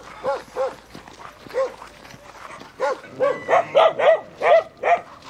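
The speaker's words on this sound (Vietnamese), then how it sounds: "Mấy đứa chó thấy gà vô sủa quá trời cả nhà." Several dogs at a rural home in the mountains bark repeatedly at arriving visitors, loud and close, a few spaced barks at first then a rapid cluster of sharp barks.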